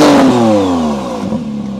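A McLaren Artura's engine revs up and then falls away in pitch, a loud, close mechanical whine and growl that settles toward idle.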